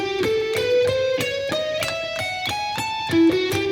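Distorted electric guitar plays a fast swept-picking lick, a rapid stream of picked notes stepping steadily upward, loud and close with no talking.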